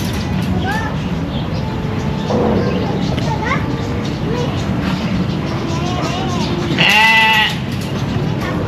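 A goat at Aviary Park Bintaro, an Indonesian bird park, lets out a few short bleats, one louder cry standing out near the end, while people talk close by over a busy background murmur.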